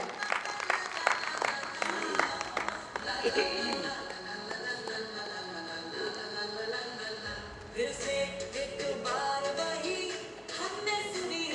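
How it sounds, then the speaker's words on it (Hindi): At an app launch event, the audience applauds in a short burst of clapping at the start, which soon gives way to music and voices in a busy hall. "एक बार बल अंकल के लिए भी जोरदार तालियां हो जाए"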